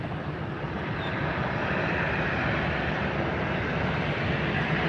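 A Southwest airliner roars steadily at Fort Lauderdale airport, a broad, loud, continuous jet rush with no pauses.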